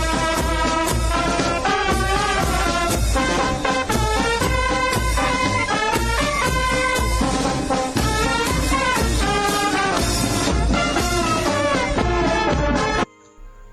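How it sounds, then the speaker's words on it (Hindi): An Indian Army Punjab Regiment military band plays Saare Jahan Se Achha at a parade in France, with full, loud, continuous brass and percussion that stops abruptly near the end. "इस समय आप सुन सकते हैं ये धुन, बिल्कुल सारे जहां से अच्छा हिंदुस्तान हमारा।"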